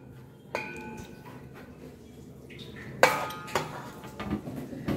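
Coconut rice being stirred with salt in a metal vessel, giving soft scraping and a few sharper metallic clinks of a spoon against the pot, close by and fairly quiet.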